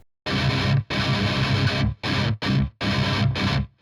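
Heavily distorted electric guitar breakdown riff from a song, loud chugging strums in five tight bursts separated by short stops, played alone.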